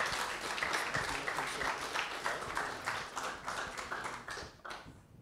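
A university audience gives a round of applause for the people who asked questions at a debate, a lively burst of individual claps that stays strong, then thins out and fades toward the end.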